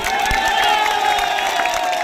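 A crowd claps and cheers at an outdoor Trinamool Congress political rally in Dantan where Saayoni Ghosh is speaking. It is a dense, steady wash of applause with whoops and shouts mixed in.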